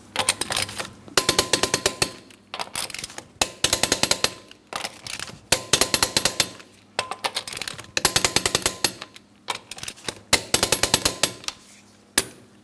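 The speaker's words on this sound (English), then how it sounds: "let's torque these lug nuts to that 100 foot-pounds in a crisscross manner" Rapid bursts of clicking from a torque wrench or impact tool tightening lug nuts on a 2003-2007 Cadillac CTS wheel to 100 foot-pounds in a crisscross pattern, about six ratcheting runs separated by short pauses, close and loud with no talk.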